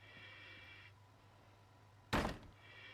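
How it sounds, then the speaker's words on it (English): A front door bashed open in the firefighting game Into The Flames: one sudden loud crashing thud that rings briefly, following a quieter stretch of ambient hum and a fading high tone. "Can I just bust through this front door?"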